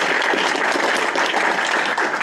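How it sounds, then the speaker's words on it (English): An audience applauds at the close of a university robotics seminar, a brief burst of dense, even clapping that stays loud and steady with no voices over it. "Let's give our applause."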